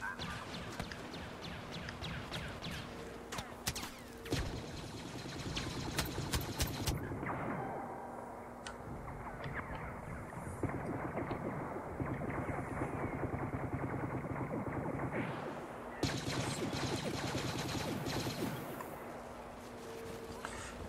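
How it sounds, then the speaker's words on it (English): Rapid blaster and gunfire bursts from the Star Wars Battlefront Walker Assault game come in clustered volleys, with sharp cracks and crashes over a steady battle hum that drops out briefly before resuming. "Getting shot at right out of the gate"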